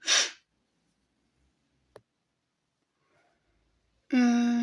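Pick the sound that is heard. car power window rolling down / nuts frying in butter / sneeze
sneeze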